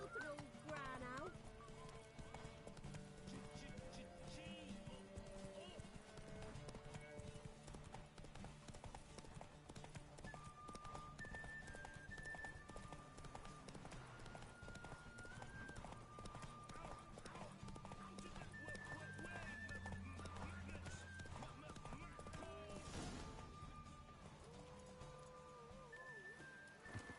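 Hooves clip-clop rhythmically as a horse gallops during a race in The Witcher 3, with whinnies, game music and speech layered over the continuous hoofbeats.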